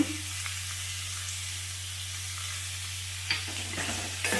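Onions and mixed vegetables frying with curry leaves in a pan for vegetable fried rice, giving a steady close sizzle with occasional stirring scrapes and no talk.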